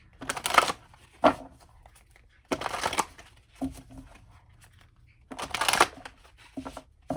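Cards riffle-shuffled in several quick bursts with pauses between, close and crisp, with no talking.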